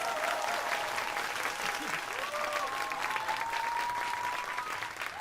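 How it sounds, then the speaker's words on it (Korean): A concert audience applauds steadily and loudly to welcome a singer onto the stage, with dense continuous clapping throughout. "큰 박수로 환영해 주시기 바라겠습니다"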